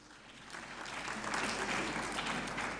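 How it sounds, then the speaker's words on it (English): An audience at the opening ceremony of a medical conference breaks into sustained applause, a dense, steady wash of clapping heard from across the hall that swells slightly toward the end. "please give her a round of applause"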